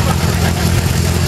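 A vintage 1952 tractor engine from the valley chugs with a steady, low rumble during a village festival parade at Sainte-Anne-du-Castellet, loud and close, with people talking over it.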